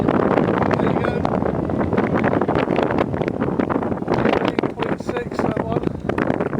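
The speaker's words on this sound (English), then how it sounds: "That's how windy it is." Heavy wind batters the microphone outdoors on a blustery night, a constant loud roar with rising and falling gusts and faint voice-like fragments buried in the noise.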